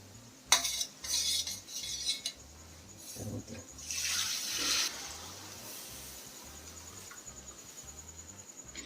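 Tamarind water is poured into a murrel fish masala curry, then stirred in a pot with soft splashes and metallic clinks of a spoon against the pan. The sounds are close and fairly quiet.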